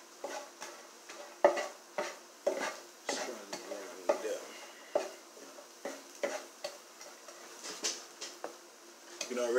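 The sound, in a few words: green and yellow onions cooking in a pan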